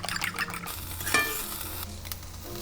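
Eggs fry in a pan with a soft, continuous sizzle and crackle, plus a short scraping stir near the middle, fairly quiet and close.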